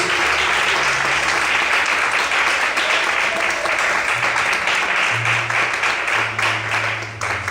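A church congregation applauds loudly and continuously during a sermon, a dense wash of clapping that holds steady throughout with a low hum underneath.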